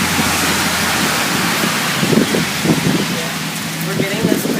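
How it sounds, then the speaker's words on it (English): Strong storm wind roars loudly and continuously against the microphone outdoors, buffeting in gusts, with people's voices faintly underneath. "It's so windy."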